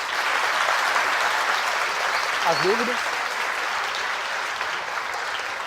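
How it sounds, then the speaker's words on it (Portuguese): Steady, dense audience applause fills the whole stretch at a youth talk on sexuality, with a brief spoken phrase from a voice rising over the clapping. "Salva de palmas"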